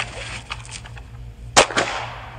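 A single rifle shot fired from a standing position, heard as one sharp, loud crack with a short echoing tail over a steady low hum.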